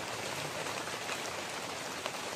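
Steady rain falls throughout, a dense even hiss of drops hitting a surface, with no voices and no breaks in the patter.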